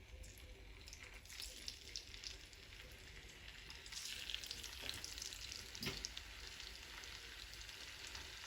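Eggs fry in hot oil with a soft, continuous crackling sizzle and occasional stirring clicks, fairly quiet and steady throughout with no voices.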